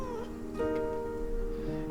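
A cat in the game Behind the Frame meows in a few short, tonal calls over a soft musical background, close and clear.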